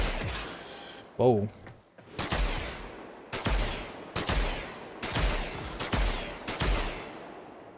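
Heavy weapon fire in Warframe, tested in the Simulacrum: six loud, evenly spaced booming shots with long decaying tails, preceded by a short whirring mechanical sound, with a brief exclamation from a voice early on.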